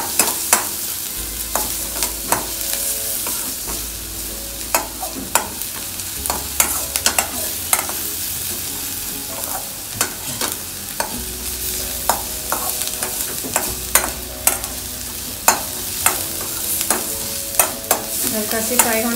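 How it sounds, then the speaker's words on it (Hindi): Ginger and garlic fry in butter for hot and sour vegetable soup, a continuous close sizzle with frequent sharp taps and scrapes of a stirring spoon against the pan. "और जिंजर गार्लिक, इसे हल्का सी फ्राई करते हैं बटर में।"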